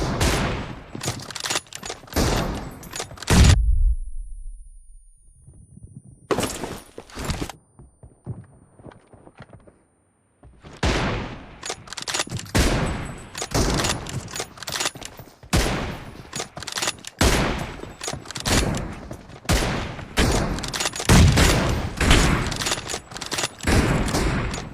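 M24 sniper rifle fire in the mobile shooter BGMI comes in sharp, loud bursts of rapid shots, separated by a short, quieter gap. Faint footsteps run under the gunfire.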